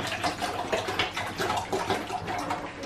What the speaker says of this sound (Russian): эту просто крышку поднял, получается, и воды налил